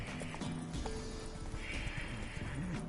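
Roach the horse neighing in The Witcher game, a close whinny with hoof clip-clops around it.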